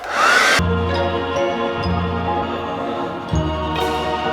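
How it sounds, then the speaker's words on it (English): A steady hair dryer blows continuously with a constant airy whoosh and low motor hum, lasting several seconds at close range. "The hot air from the hairdryer breaks these molecules."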